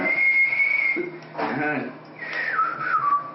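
A person whistles the Bridge on the River Kwai melody with clear sustained notes and gliding pitch changes, close and fairly loud, with a brief break in the middle.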